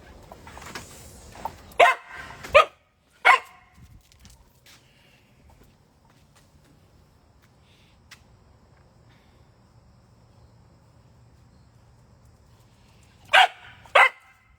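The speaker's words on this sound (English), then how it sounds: "She likes to wait until I lean down to pick up the ball to bark directly in my ear." A dog barks during a game of fetch, sharp close barks in a quick cluster near the start and again near the end, with a long quiet stretch between filled by faint insect chirring.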